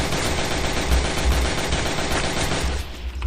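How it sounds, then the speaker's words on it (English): Dense, relentless machine gun fire rattles without pause in a WW1 trench-warfare video game, a loud, continuous fusillade that only slightly thins near the end, with no voices. "one side fired endlessly as one side tried to get over, as I will demonstrate now"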